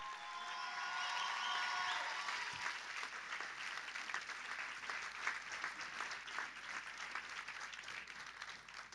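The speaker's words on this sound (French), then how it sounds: "On applaudit chaleureusement Lou et Camille." An audience at an awards ceremony breaks into warm, sustained applause, dense steady clapping heard at a distance, with some cheering at the start.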